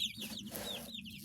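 A home flock of chickens and young chicks clucks and peeps steadily at close range, fairly soft, with no voices.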